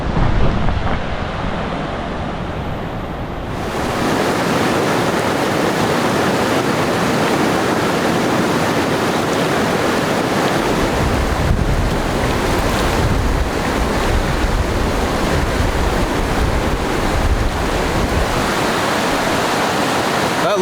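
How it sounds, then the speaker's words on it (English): Steady, full-band rush of a flowing backcountry creek outdoors, loud and continuous throughout with no talk, a close, even wash of moving water. "So we are approaching a gorgeous creek."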